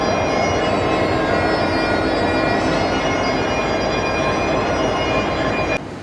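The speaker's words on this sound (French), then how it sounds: "Il y a un train spécial à quai." A special train stands at a station platform near Edinburgh and gives off a loud, steady mechanical hum and whine. The drone continues without a break and no one talks.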